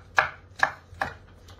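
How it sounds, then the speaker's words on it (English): A knife dices hot peppers on a cutting board for coconut curry fritters with salt fish, giving three crisp, evenly spaced chops close by, then a fainter fourth, with no talk. "So I'm dicing these up small."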